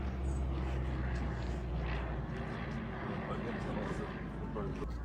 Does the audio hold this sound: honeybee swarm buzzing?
no